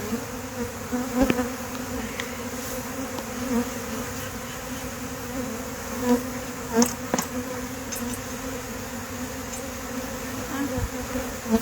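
Agitated honey bees buzzing thickly and continuously up close, a dense droning swarm with occasional individual bees zipping past the microphone.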